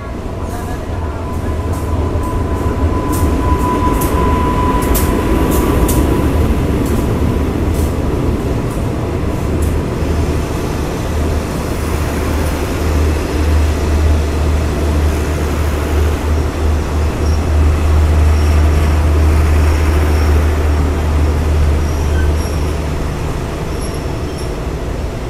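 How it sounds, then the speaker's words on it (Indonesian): Special express train on the Thaksinara night service arriving at a station in Thailand, a loud continuous rumble of rolling wagons with a low mechanical drone building near the end while people talk over it. "Ini yang baru datang adalah kereta spesial ekspres dari arah Sungai Kolok"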